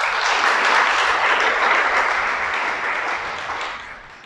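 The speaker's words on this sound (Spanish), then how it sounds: "Dale un aplauso." A crowd applauds steadily, a dense wash of clapping that fades slightly toward the end.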